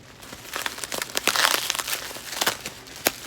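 Crinkly plastic packaging of vintage trading cards being unwrapped up close, a run of sharp crackling bursts that swell in the middle and end on one loud final crinkle.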